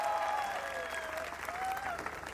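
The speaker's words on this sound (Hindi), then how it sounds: "जरा पहले एक दफा अपने शोर से और अपनी तालियों से अपनी मौजूदगी का एहसास दिला दें जबरदस्त अंदाज" A conference audience at an Urdu literary event claps and cheers in a steady dense wash of applause, with a few tonal whoops or a voice running over it throughout.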